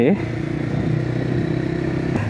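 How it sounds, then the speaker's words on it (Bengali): A motorcycle being ridden in the rain in Madaripur, Bangladesh, its engine humming at a steady idle-like rumble, close by, with a brief clatter at the start. "বৃষ্টির মধ্যেও ভালো লাগে বাইক চালাইতে"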